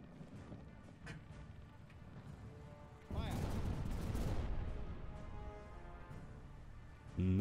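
Broadside of gunfire from a pirate ship's weapons in a first-person pirate game, a loud sustained burst of booming shots and rumble that swells, holds, then fades, with another blast at the end.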